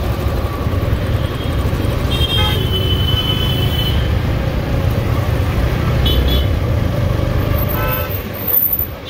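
Loud, dense road traffic on a busy Indian street, heard from a TVS Apache RTR 160 motorcycle, with a constant engine and road roar and several short car horn toots sounding over it.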